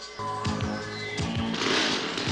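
A chainsaw in the 1982 horror film Pieces revs with rising and falling mechanical whines that build into a harsh, buzzing roar, fairly close and unbroken by voices.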